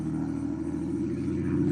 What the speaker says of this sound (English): you're probably going to hear trucks and stuff go by